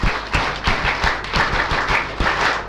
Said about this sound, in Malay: kita mulakan dengan satu set tepukan semangat Elken